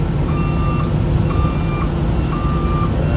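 A truck backing up a trailer sounds a repeating reversing beep, three evenly spaced tones over a loud, rumbling idle engine close by.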